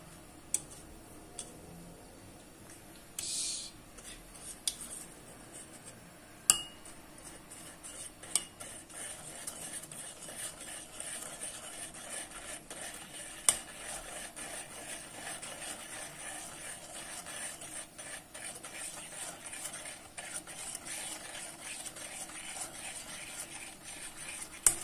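A spoon stirs pudding mixture in a bowl with steady, light ticking scrapes and occasional sharper clinks, close up and fairly quiet, with no talking.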